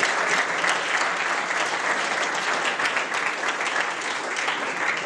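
An audience gives a steady, sustained round of applause for the speakers, dense clapping filling the room without pause.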